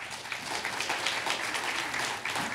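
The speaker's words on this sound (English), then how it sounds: "Pam, do you hear that applause?" Church congregation clapping for the reader after a scripture reading, a dense, sustained burst of applause at moderate volume that continues evenly throughout.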